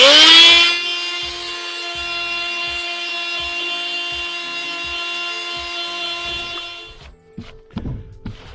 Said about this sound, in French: Je pense que je vais poncer un petit coup.